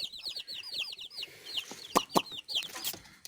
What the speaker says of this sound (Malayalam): ഇതിൽ രണ്ട് കരിങ്കോയിൻ്റെ കുട്ടികളുണ്ട് ബാക്കിയെല്ലാം നാടൻ കോയിൻ്റെ കുട്ടികൾ തന്നെയാണ്